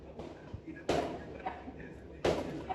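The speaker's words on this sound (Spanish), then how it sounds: "Llegan los fuegos artificiales, señores." New Year fireworks for 2026 go off in two sharp, loud booming bursts with crackling tails, set against steady background noise from a nearby gathering.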